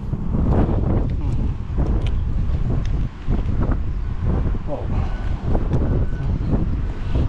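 Strong wind roars continuously and loudly across the microphone, with rough buffeting gusts throughout and faint water noise beneath.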